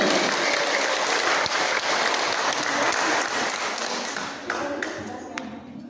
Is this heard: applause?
yes